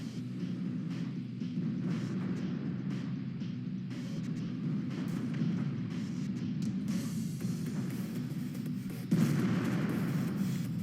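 A tank cannon fires in World of Tanks, a deep booming blast rising out of a steady low engine rumble and battle noise, with the burst coming late and fairly loud.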